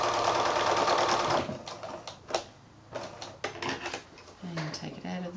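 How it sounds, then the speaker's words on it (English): A sewing machine stitching binding on a quilted placemat, a short rapid mechanical run up front, then sparse clicks and handling noises while someone speaks close by. "now I'm just going to sew all the way across there, right down to where my stitching started down here"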